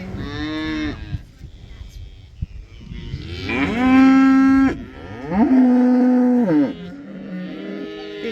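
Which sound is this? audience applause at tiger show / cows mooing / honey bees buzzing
cows mooing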